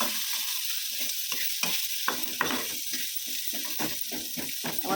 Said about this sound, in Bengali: এই যো উচ্ছে ভাজা হচ্ছে